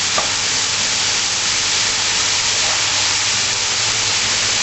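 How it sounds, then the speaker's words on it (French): Onions with a little sugar stirred in a hot pan to caramelise, a steady broad sizzle and hiss running loud and close throughout, with faint scraping of the stirring under it and no talk. "je mets un peu de sucre et je vais pouvoir les caraméliser. Donc là je remélange bien."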